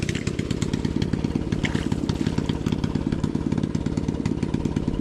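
A motorcycle engine runs steadily and close by, a loud, even, pulsing drone that stays at a constant level the whole time, with no talking.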